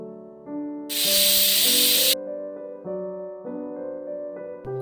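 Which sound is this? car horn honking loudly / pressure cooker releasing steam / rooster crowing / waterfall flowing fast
pressure cooker releasing steam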